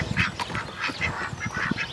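Farmyard ducks quack repeatedly at close range, mixed with honking calls from other fowl, in a steady busy chorus without talk.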